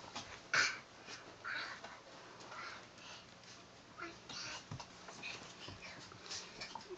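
Young puppies whimper and whine faintly in a room, soft intermittent cries scattered across several seconds with a sharper yelp near the start and quiet voices in the background.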